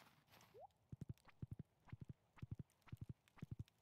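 Horse hooves clip-clopping in a video game, quick triple-beat clusters of hoof strikes repeating steadily and close, with no talk over them.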